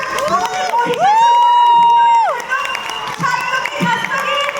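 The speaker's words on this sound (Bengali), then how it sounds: "তার জন্য একটা হাততালি হয়ে যাক আমাদের মহিষাসুর" An audience at a stage play performance cheers loudly for an actor, with a long rising whoop and shouts over crowd noise, close and full, and a few claps and voices mixed in.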